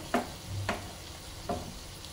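A spoon scrapes and stirs potato and fenugreek leaf curry in a pan, three distinct strokes over a soft background sizzle, close and without speech.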